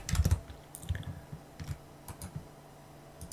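Keys clacking on a computer keyboard as a Linux package install command is typed, a few quick bursts of close, crisp key taps separated by short pauses, with no talking.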